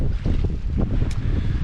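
Strong wind at sea, gusting to around 17–18 knots, roars steadily against the microphone aboard a small Liberty sailboat, with the dense rush of water and waves mixed in and no talking.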